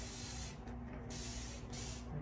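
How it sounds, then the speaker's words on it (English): A hand spray bottle mists water over freshly repotted succulents in several hissing bursts, close and fairly loud, with short gaps between sprays and no talking. "nice little spray mist. Keeps them all hydrated and misty"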